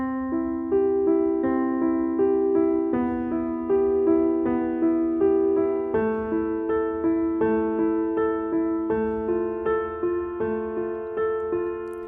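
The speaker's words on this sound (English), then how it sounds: "And when you play this a little faster, it sounds like this." Piano chord notes run up and down quickly with the sustain pedal down, a rapid even stream of ringing notes that overlap into a continuous wash, clear and alone.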